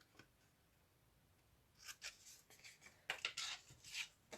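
Scissors snip through folded paper up to the crease, giving a few short, crisp cutting strokes that are quiet and close, starting after a near-silent stretch and growing more frequent near the end.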